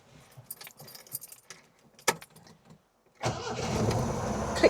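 An MGB classic car starting: keys jangle and click near the ignition, a short pause, then the engine catches and settles into a steady close idle.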